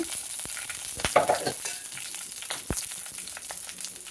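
Dried and green chillies hit hot oil for a tempering with cardamom and cloves, a close, bright sizzle and crackle with scattered pops and stirring scrapes, steady throughout and without talking.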